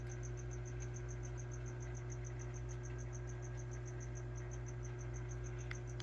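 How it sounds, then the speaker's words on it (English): A cricket inside a tarantula cage chirps in a steady, rapid pulse train over a constant indoor electrical hum. "I definitely hear him in Morticia's cage. Morticia, you missed some crickets"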